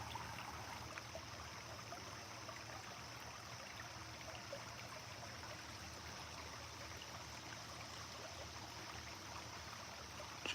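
A mountain stream flows steadily and evenly, a constant close rush of water over rocks that holds its level throughout with no voices.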